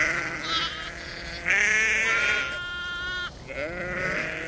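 Ancient primitive sheep bleat several times in a row, loud and close, with wavering, nasal calls and brief pauses between them outdoors.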